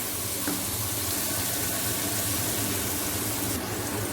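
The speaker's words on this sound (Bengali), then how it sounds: "স্টকটা এবার আমি ঢেলে দিচ্ছি।" Vegetable stock pours into a pan of fried onions as a steady, dense rushing and hissing wash, close and even throughout, with no talking.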